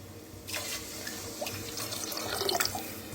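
Water pours steadily into a pressure cooker, a continuous close splashing stream that grows slightly busier toward the end; no voices.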